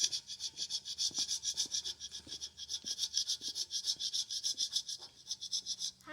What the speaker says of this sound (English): How does the file get the paint off?